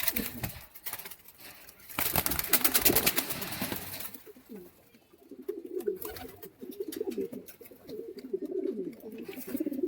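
Pigeons cooing inside a loft holding young birds, including a young grizzle pigeon; a loud rattling burst near the start gives way to steady low coos close by.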